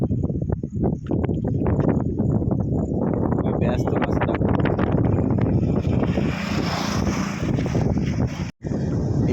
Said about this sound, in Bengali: এত হাওয়া দিচ্ছে এখানে